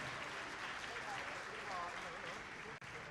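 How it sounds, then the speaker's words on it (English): An audience at a FIRST robotics district event applauds award nominees with steady, sustained clapping at a moderate distance, while a voice speaks over it. "Please give them a huge round of applause."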